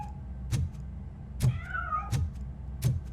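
A cat meows in the RoboCop: Rogue City video game, four short clear meows spaced about a second apart, with a faint game tone in the background.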